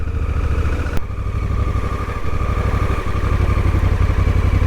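Honda Africa Twin or Transalp motorcycle pulling away, its engine a loud, close, steady throbbing rumble that swells slightly in intensity over a few seconds with no talk.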